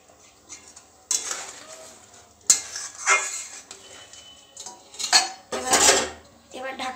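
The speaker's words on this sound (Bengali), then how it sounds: "মা এর মধ্যে গলদা চিংড়িগুলো ঢেলে দিল" Giant freshwater prawns poured into a metal cooking pan and stirred, giving irregular scraping and clanking of a utensil against the pan in short bursts, close and fairly loud, with quiet gaps between strokes.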